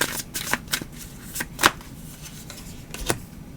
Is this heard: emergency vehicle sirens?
no